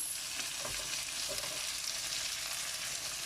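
Peppers, garlic and onions fry in a pan for a chilli paneer dish, giving a steady, close sizzle with a few soft stirring scrapes and no talk.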